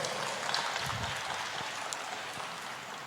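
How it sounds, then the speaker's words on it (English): An audience at a school reunion applauds dignitaries on stage, a steady wash of many hands clapping together, moderately distant and even throughout. "So one big round of applause for all of them"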